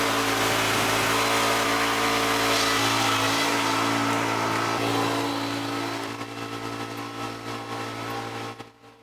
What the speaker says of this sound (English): you're going to want to start your engine up, let it warm up outside.